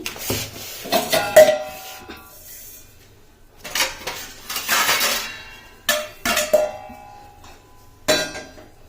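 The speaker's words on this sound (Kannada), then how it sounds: "ಪಾತ್ರೆ ಇಡ್ತಾ ಇದ್ದೀನಿ" A cooking pot is set down in a home kitchen, giving several distinct metallic clanks and clinks in short clusters with quiet gaps between them, close and fairly loud, with no talking.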